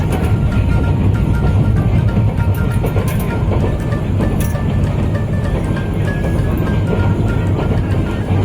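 A train passes Pahartali railway station with a loud, close, steady rumble and rolling clatter that fills the whole stretch, with no voices.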